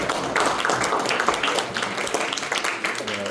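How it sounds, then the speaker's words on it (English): A room of lecture attendees claps together, a brief burst of dense, close applause that stays fairly even throughout with some voices mixed in. "give yourselves a round of applause"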